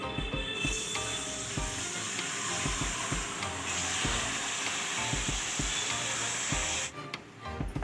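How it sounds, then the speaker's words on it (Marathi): Milk poured into semolina cooking in a pan for mango sheera, a loud hissing sizzle with stirring scrapes that bursts up and then drops off near the end. "एक कप रव्याला एक छोटा ग्लास दूध घेतलं ते दूध टाकून घेऊया"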